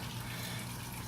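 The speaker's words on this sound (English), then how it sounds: "So just going to pull some more water out." Water being drawn out of a fish tank during a sponge filter cleaning, a steady close rushing gush that runs unbroken for the whole moment.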